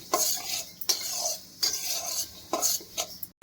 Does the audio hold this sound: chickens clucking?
no